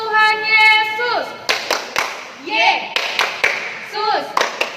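Children and a leader at a Sunday school service in a GKPI church clap in a rhythmic chant, sharp sync claps in short patterned bursts alternating with sung or spoken phrases.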